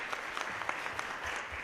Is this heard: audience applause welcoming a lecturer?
yes